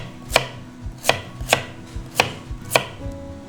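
A kitchen knife slices radish into thin squares about 2-3mm thick on a cutting board, giving five crisp, evenly spaced chops with short pauses between them and no talking.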